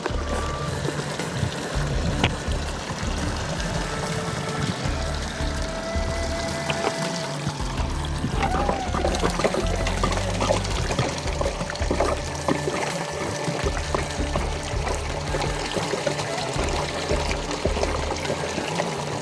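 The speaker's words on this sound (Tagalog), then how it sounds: "And then we will add or pour water in the fermentation bucket." Water pours steadily into a fermentation bucket outdoors, a continuous rushing trickle heard nearby and moderately loud for the whole stretch, with no talking.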